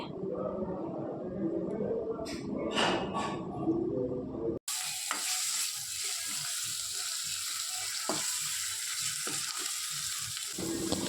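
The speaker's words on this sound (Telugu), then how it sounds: "పచ్చివాసన పోయిన తర్వాత కొంచెం పసుపు అల్లం పేస్ట్ వేసి మళ్ళీ ఒకసారి బాగా కలుపుకోవాలి" Turmeric and ginger paste frying in a pan, stirred in for an egg pulav: a muffled stretch of cooking noise, then a bright, continuous sizzle with soft scraping stirs.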